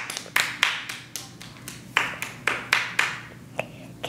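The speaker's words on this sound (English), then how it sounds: "Please give Socks a round of applause." A small gymnastics event audience gives sparse, scattered applause for the second place winner. A dozen or so distinct, fairly close hand claps ring out irregularly with short gaps between them.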